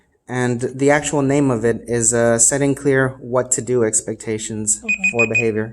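A timer alarm gives a short burst of high electronic beeps, mostly near the end and partly masked by a person speaking continuously over it.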